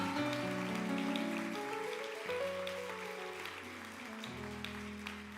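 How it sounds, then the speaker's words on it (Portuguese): A church congregation at a Portuguese-language service applauds strongly, a continuous dense wash of clapping with sustained keyboard or organ chords playing underneath. "dá um aplauso bem forte ao Senhor"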